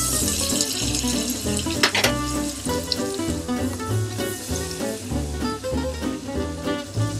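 Salmon sears skin-side down in hot oil and butter in a pan, giving a steady, dense sizzle and crackle that runs throughout with no talking.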